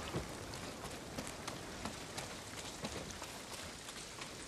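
Rain falls in the video game Ghost of Tsushima as a soft, even hiss of drops, faint and unbroken, with no talk over it.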